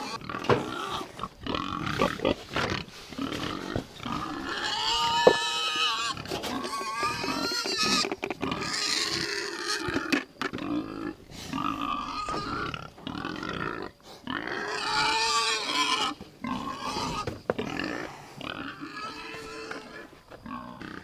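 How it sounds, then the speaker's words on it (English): Pigs in pens on a small farm grunt, squeal and snort loudly and close up at feeding time, in continuous overlapping bursts with a few louder outbursts, while a person speaks now and then underneath. "But first I have to feed the pigs that are in the pens."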